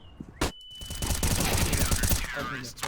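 Rapid bursts of gunfire ring out in a CS:GO match, a dense rattling volley after a single sharp shot, loud and close with faint voices around it.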